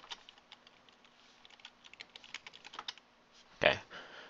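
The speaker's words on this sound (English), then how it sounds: "go to that particular computer, do CMD, and then type in ipconfig" Keys clatter on a computer keyboard as a command is typed at a Windows command prompt, a run of quick, light taps ending in one louder keystroke, close and alone.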